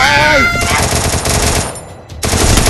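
Rapid automatic gunfire in the mobile battle game Free Fire Max, loud bursts of close shots with a short gap before firing resumes, with a brief tonal game sound at the start.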